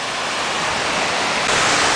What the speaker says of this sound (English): I like the waterfall and stuff